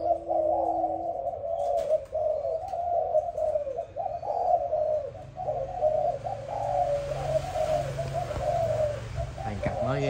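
Malaysian spotted dove cooing in a steady repeated phrase, close and clear, with faint chirps from other birds in the background.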